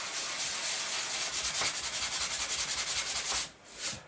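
A cloth or tissue wipes excess glue off two joined sheets of balsa wood, a close, rapid back-and-forth rubbing with a regular rhythm of strokes that pauses briefly near the end before one last swipe.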